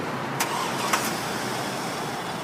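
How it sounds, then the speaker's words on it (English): Remote start on a 2003-2006 GMC Yukon XL: two short chirps from the alarm remote over a steady engine cranking and running noise, close and continuous. "The remote whistles and the engine will crank."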